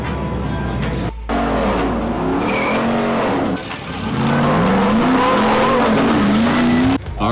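A Jeep JL Wrangler fitted with a 6.4 Hemi V8 roars down a racetrack, its engine note rising and falling through several loud revving surges with tire noise, heard close and continuous.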